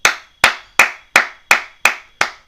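Seven sharp hand claps at a steady, slow rhythm, each crisp and close with a short decaying tail, heard alone without any talk.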